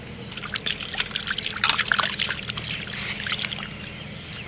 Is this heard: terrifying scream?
no